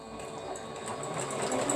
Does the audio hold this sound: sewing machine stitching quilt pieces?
yes